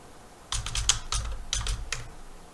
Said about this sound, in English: I'll type in Van Gogh.